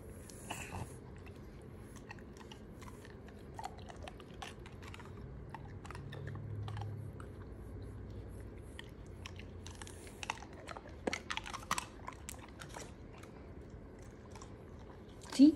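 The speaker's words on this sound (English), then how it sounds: "she started crunching on the ice and it stopped" A Doberman crunching on ice makes quiet, irregular crunching bites close by, with faint background noise and no talk over it.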